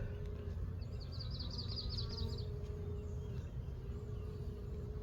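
Honey bees buzzing around an opened hive being expanded, a steady low hum close by, with a brief chirping bird call in the background early on.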